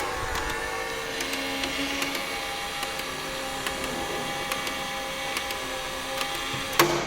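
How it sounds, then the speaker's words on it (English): Embedded motor inside a low-voltage circuit breaker charging its spring in a switchgear laboratory, a steady mechanical whir with faint periodic ticks, ending in a brief louder clunk. "And now you could hear the noise of the motor"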